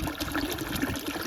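Water gushing and trickling out of a 12 volt pump's outlet at a shrimp pond, a short continuous splashing flow heard close up without any voices.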